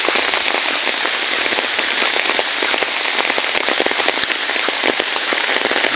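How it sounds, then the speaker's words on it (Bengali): Steady light rain patters on a surface, a dense even hiss dotted with individual drops, continuous and fairly close. "একেবারে কম এখন বৃষ্টি"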